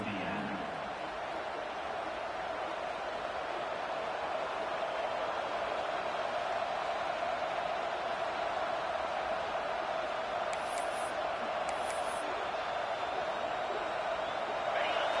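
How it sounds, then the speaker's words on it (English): A college football stadium crowd in Tennessee roars steadily, a dense, loud wash of cheering and noise that holds without pause, with a faint whistle-like tone near the end. "This crowd trying to show them what it's going to be like all day in this house."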